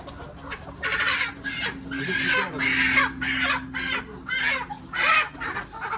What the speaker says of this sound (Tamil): சிட்டு வடை கோழி எதுங்க? பிடிங்க, பிடிச்சி காட்டுங்க.